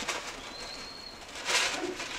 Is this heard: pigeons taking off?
yes